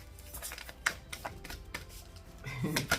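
Rapid, papery clicking and riffling of cards being shuffled up close, with a denser flurry near the end.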